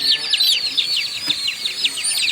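Dekalb White chicks inside a poultry growing house chirp densely and continuously, a close, steady chorus of high peeping with no pause.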